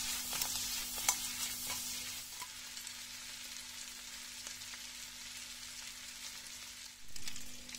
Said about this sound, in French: Feu vif, et on va faire sauter tout ça.